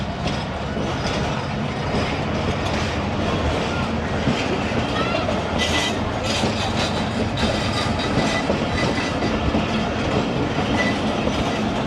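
The Fareed Express passenger train runs steadily on the rails, a loud, continuous rumble with rhythmic clickety-clack and rattling carriage noise heard from on board, with some talk faintly under it.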